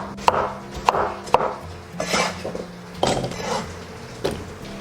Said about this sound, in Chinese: 我们先把土豆给它切成小块